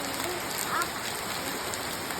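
Steady, dense rain hisses evenly throughout, a heavy downpour with no pauses and no one speaking.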